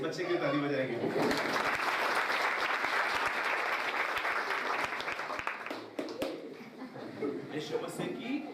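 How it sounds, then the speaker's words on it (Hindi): An audience at a Christian worship gathering claps for a child, steady applause filling most of the stretch before tapering off, with voices and a few cheers around it. "भैया इस बच्चे की ताली बजाएंगे।"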